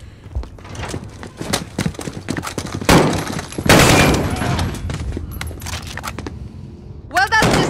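Rapid gunfire in the Call of Duty: Modern Warfare mission Captive, loud close shots in quick irregular bursts building to a sustained volley, with in-game voices talking between them.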